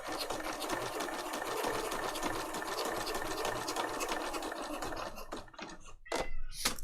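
Sewing machine stitching steadily while making tags, a continuous fast mechanical whirr that stops near the end with a few clicks and small handling sounds, close and moderately loud, no talking.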